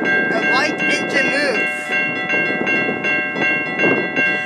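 Two CN locomotives on the Barrie line, running past at close range with steady rolling rail noise and sustained horn tones sounding through much of the passage, with rumbling wheels underneath.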